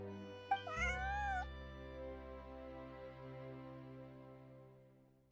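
A cat meows in a video game with one long, wavering cry, then silence apart from a low, steady background hum and a brief click at the end.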